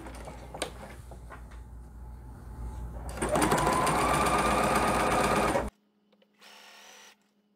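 A sewing machine stitches a strip of blue fabric, running in short bursts and then a louder, steady run before stopping abruptly, followed by a brief quieter burst of stitching.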